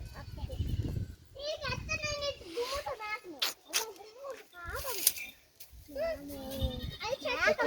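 Young goat kids bleat again and again in wavering, high calls at close range, mixed with children's voices talking and playing nearby.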